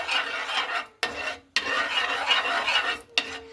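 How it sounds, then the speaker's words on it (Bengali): Vermicelli roasting in a pan for payesh is stirred in long, dry scraping sweeps, with two short pauses between strokes and a faint sizzle underneath. "নাড়তেই হবে"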